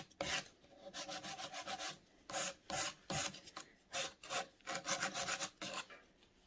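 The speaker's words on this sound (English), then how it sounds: "we're just going to file down the opposite side" A nail file rasps across the side of a fingernail in quick, close, rhythmic strokes, with short bursts of scratchy filing separated by brief pauses.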